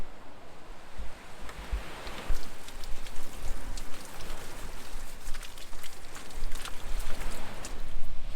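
A portable camping shower sprays water in a continuous hissing patter, like close rain on a surface, steady and fairly loud throughout with small splashy fluctuations.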